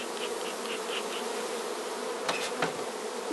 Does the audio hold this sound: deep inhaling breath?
no